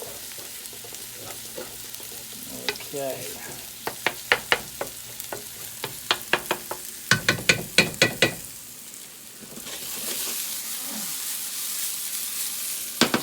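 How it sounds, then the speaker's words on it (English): Tomato paste fries in a pan with a steady sizzle, broken by a series of sharp clicks and taps from utensils scraping and stirring. The frying swells louder near the end, and a voice speaks briefly. "I got my tomato paste is frying here."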